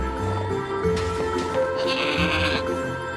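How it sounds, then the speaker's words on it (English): A goat bleats in the video game Trine 4, several wavering nasal calls in quick succession, loud and close, over a tonal game music backdrop. "What an amazing goat!"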